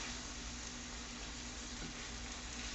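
Jalapenos cooking in a pan for Philly cheese steak hamburgers, giving a quiet, steady frying sizzle that holds at an even level throughout with no voices.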